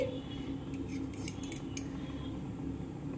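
A knife slicing through a boiled sandige in the middle, a few soft clicks and light metallic taps of the blade against a plate, quiet and close over a faint kitchen hum.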